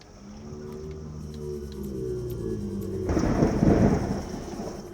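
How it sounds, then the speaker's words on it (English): Thunder rumbles outside during a storm, a low continuous roll that swells into a loud, broad crash about three seconds in and lingers, with no talk over it. "it's really thundering outside too"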